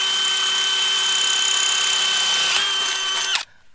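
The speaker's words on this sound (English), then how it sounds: "Drill a hole, drill a hole all the way through." A power drill whines steadily at high pitch for several seconds, then cuts off abruptly as it stops.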